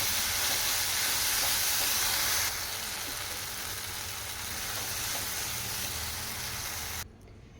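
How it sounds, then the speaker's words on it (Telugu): Tomato pieces cook in a pan with a steady, even hiss and sizzle that runs almost the whole time and eases slightly partway through. No one speaks. "ఉడికేంత వరకు ఇలా కలుపుతూ ఉండాలి"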